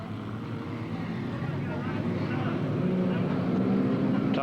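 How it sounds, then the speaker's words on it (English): Saloon race cars in the 1991 Victorian Standard Saloon title at Redline Raceway rev up at the start, a dense, steady engine roar that builds slightly, with a commentator talking over it throughout. "Tail enders revving up."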